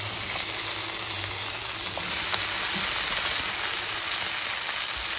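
Steamed broad beans are added to a hot pan with dried chillies, and they fry with a loud, continuous sizzle that holds steady throughout.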